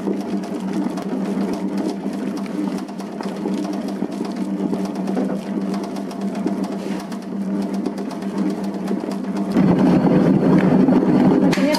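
A bread dough mixer kneads white sandwich loaf dough with a steady whirring motor hum and rhythmic churning, running continuously close by, growing louder and fuller near the end.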